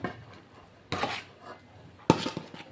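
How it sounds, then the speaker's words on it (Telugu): The leftover rice is tipped onto layered chicken biryani in a pot, giving two soft thuds with scraping of a utensil against the pot, close and muted. "పైనుంచి మిగిలిన రైస్ కూడా అంతా వేసేస్తున్నా"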